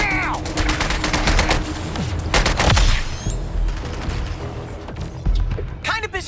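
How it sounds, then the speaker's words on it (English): Rapid bursts of gunfire and fusillades during combat in the Suicide Squad: Kill the Justice League video game, loud and close, mixed with game effects while voices talk over the action. "Shoot him, boys! Now!"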